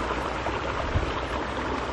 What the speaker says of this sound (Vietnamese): hiện tại là bọn mình đang ở một cái bờ suối ngồi chơi này